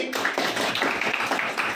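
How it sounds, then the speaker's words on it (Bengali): A burst of clapping at a quiz competition, a short close patter of hands from a small group, continuous for under two seconds. "হাততালি।"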